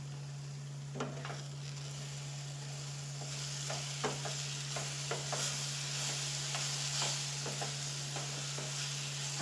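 Banana pola batter frying and being stirred in a pan, a constant soft sizzle with a low steady hum and scattered scraping taps of a utensil.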